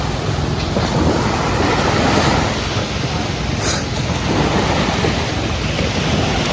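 Ocean surf rolls continuously onto a beach at Botolan, Zambales, with steady wind buffeting the microphone, a loud, unbroken wash of breaking waves and hiss with no pauses.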